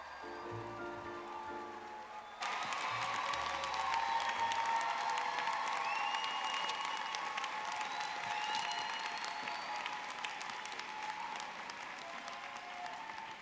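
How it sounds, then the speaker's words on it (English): A large audience at a university graduation ceremony at New York City Center breaks into sustained, dense applause that begins abruptly after a short quiet stretch, then carries on loudly and evenly with scattered cheers. "Please give all our graduates a round of applause."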